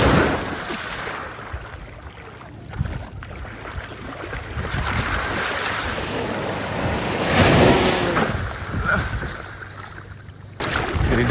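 Ocean waves washing onto the beach at Dahican, a continuous rushing surf with swells building and breaking, mixed with strong wind buffeting the microphone up close.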